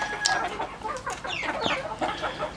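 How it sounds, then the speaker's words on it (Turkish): A flock of chickens with a rooster clucks and squawks continuously, several birds overlapping at close range. "Şu horoz mesela çok iyi bir horoz mu değil mi bilmiyorum."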